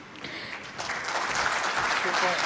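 Applause from an audience at an agricultural innovation event swells into a dense, steady wash of clapping that grows louder over a couple of seconds, with some voices mixed in.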